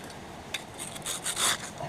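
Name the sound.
scraping material back while washing it down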